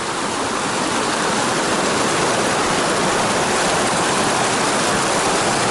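River water rushing loudly and steadily along the John Muir Trail near Mather Pass, a close, dense, unbroken roar with no voices over it.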